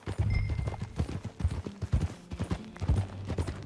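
A ridden horse in the Western video game Red Dead Redemption II trots with close, rhythmic hoofbeats; a short whinny rings out near the start, and the footfalls keep a steady, lively pace throughout.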